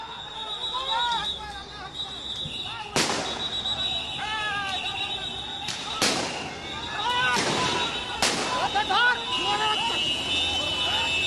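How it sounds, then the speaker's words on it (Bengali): Army soldiers fire blank gunshots during unrest, several sharp loud cracks spaced irregularly a few seconds apart, with a siren-like tone, crowd noise and talk running underneath. "ফাঁকা গুলি বর্ষণ করছেন"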